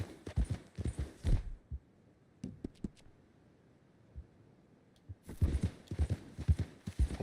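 Horse hooves clip-clop in the video game Red Dead Redemption 2, a rhythmic run of close, thudding steps that pauses briefly before resuming with a quick, busy gait.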